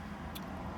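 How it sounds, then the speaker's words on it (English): Road vehicles, trucks among them, pass along a street beside a marina industrial area, heard as a steady low traffic rumble with a brief higher hiss midway. "you guys will hear a bunch of trucks going by."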